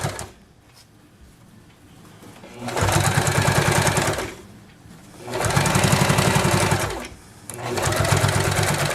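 Three steady runs of a sewing machine stitching a straight seam on bias binding, each lasting a couple of seconds, separated by brief pauses with soft handling noise.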